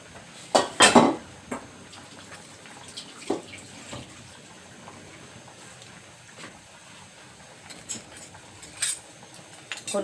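Beef jungle curry with yellow eggplant is stirred in a pot: a cluster of loud ladle clanks against the metal early on, then softer scattered scrapes and clinks over a wet simmering background, close by.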